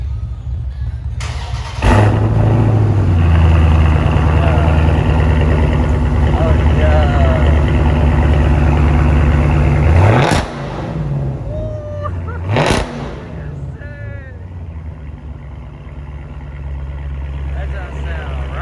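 A 2020 Dodge Challenger widebody with a mid muffler delete revs hard, its loud deep exhaust roaring and holding for several seconds before dropping to a rumbling idle with sharp blips, while someone talks excitedly.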